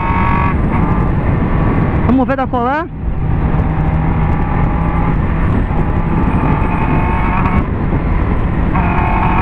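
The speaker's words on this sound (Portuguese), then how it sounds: "Eu vou por cá, para acelerar mais a moto." Honda Hornet and BMW S1000RR motorcycles accelerating hard on the road, a loud continuous engine roar with a rapid rising rev sweep partway through, heard under someone speaking over helmet wind noise.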